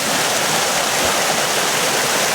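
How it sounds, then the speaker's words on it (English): A sacred double waterfall at an abandoned site in Japan roars close by, a loud, steady broadband rush of falling water with no break. "It's a waterfall."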